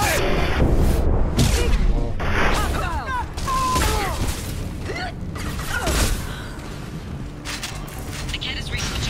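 Gunfire in Mass Effect 2 combat, loud clattering bursts and mechanical bangs layered with sweeping sci-fi effects and dense battle noise throughout, with talk-like voices mixed into the chaos.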